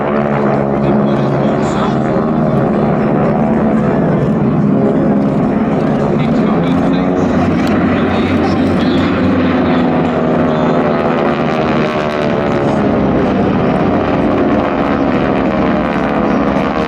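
A Fieseler Storch propeller plane flies at an airshow in Meaux, its engine droning steadily and loudly throughout with shifting pitch, while a commentator talks over it.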